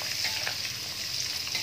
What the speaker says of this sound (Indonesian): terakhir kita masukkan terinya guys, kita goreng